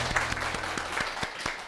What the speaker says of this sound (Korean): 손봉균 셰프님을 큰 박수로 모셔보겠습니다